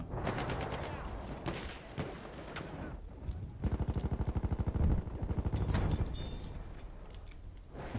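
Sustained gunfire in the video game Battlefield 1: dense bursts and rapid machine-gun rattles, close and loud, with a steady run of rhythmic automatic shots in the middle and heavier blasts at the end.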